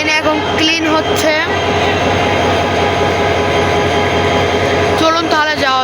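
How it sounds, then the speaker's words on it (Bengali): Passenger train bound for Cox's Bazar starting to move, a loud continuous rail rumble with metallic squeals and tonal whines at the start and end, some voices mixed in. "এখন ট্রেন চালু হয়ে গেছে,"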